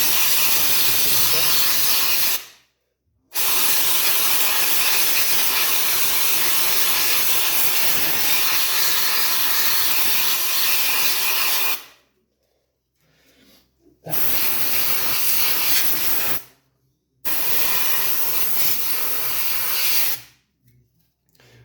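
A can of compressed air hisses in long, loud bursts while cleaning the fan of a Dark Rock Pro 4 CPU cooler, with four sustained sprays separated by short silent pauses.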